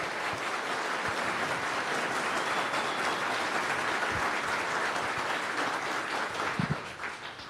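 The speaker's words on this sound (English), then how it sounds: "big round of applause for Dinesh real quick." An audience applauds steadily, a dense, even patter of clapping that holds at a moderate level before thinning out near the end.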